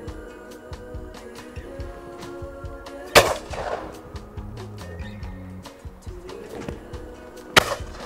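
A Rizzini RB game shotgun fires two sharp, loud blasts several seconds apart at a clay-shooting ground, with background chatter and outdoor noise between the shots.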